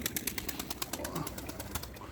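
Baby pigeons give soft, low cooing, faint and close, with a quick series of light rhythmic taps or clicks mixed in.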